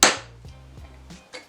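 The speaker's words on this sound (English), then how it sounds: "I'm just going to take my hammer, tap it." A hammer taps a brad point bit into scrap wood during hand tool woodworking on a shooting board jig: a sharp close strike followed by several lighter, evenly spaced taps that ring briefly, with no talking.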